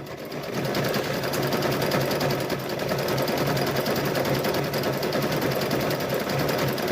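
A sewing machine stitches a quilted Halloween gnome wizard tote bag, a steady, close, continuous mechanical whir with rapid needle chatter that runs unbroken throughout.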